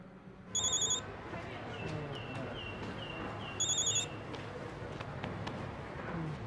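A telephone rings again in two clear electronic trills a few seconds apart. A faint whistle-like tone and soft room noise run between the rings.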